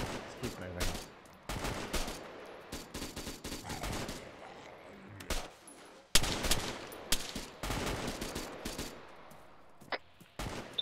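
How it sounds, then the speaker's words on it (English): Gunfire aimed at zombies in the video game Arma 3, bursts of rapid automatic shots and single cracks repeating throughout, loud and close, with brief pauses between volleys. "Don't get stuck shooting all the zombies"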